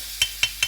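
Crushed chillies frying in a pan, with three sharp, evenly spaced scraping strokes over a soft, steady sizzle, close and fairly quiet.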